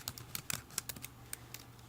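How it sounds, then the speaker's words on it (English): Quick bursts of typing on a computer keyboard, close and fairly quiet, with irregular crisp key clicks spread over a couple of seconds. "I'm going to type in student art"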